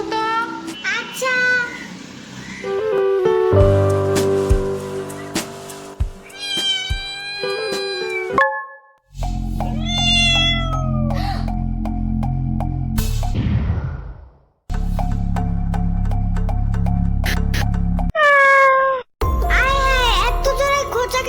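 Several cats meow loudly and repeatedly in a building stairwell, long drawn-out cries with short pauses between them, close and echoing, some rising into a caterwaul.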